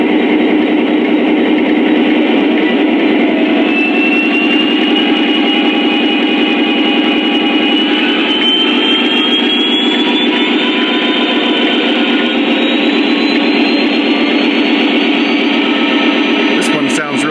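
A Lionel FURX SD40-2 model locomotive plays its diesel engine sound at a steady RPM level, a loud continuous low rumble with a droning hum and a faint high whine, unbroken throughout.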